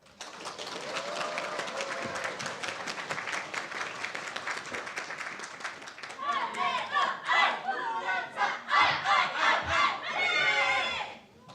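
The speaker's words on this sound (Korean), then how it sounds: "이 자리를 빌려 고생한 우리 모두에게 박수를 보내고 싶습니다" Applause and cheering break out from an audience at a Namyangju city proactive-administration best-practice contest, rising in loud uneven bursts with crowd voices mixed in after a stretch of murmuring.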